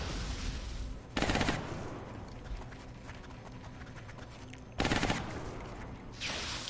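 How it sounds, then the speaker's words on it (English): Suppressing automatic gunfire in the turn-based strategy game XCOM Long War, in two loud bursts of rapid shots separated by quieter game ambience, with a third burst starting near the end. "Suppressing fire on target."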